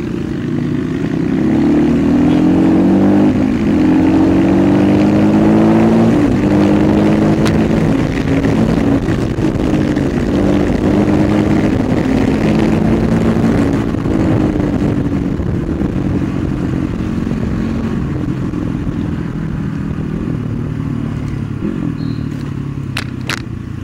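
CX 250SE motorcycle being ridden on the road, a loud continuous engine drone with rising and falling pitch as it shifts through gears, wind noise throughout.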